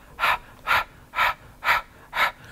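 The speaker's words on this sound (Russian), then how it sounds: "ребенок начинает дышать в такт вместе с вами" An infant with cystic fibrosis breathes in rhythm during chest physiotherapy, five evenly spaced, breathy exhalations about half a second apart, close and fairly quiet with no talking.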